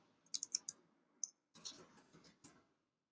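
A single word typed on a computer keyboard in an image editor, two short bursts of faint, crisp key clicks separated by a brief pause, with no voices.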